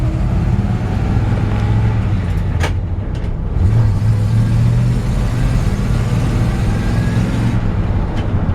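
A 1966 Chevy C-10 pickup truck engine hums steadily from inside the cab while driving, with a deep rumble that swells as it accelerates.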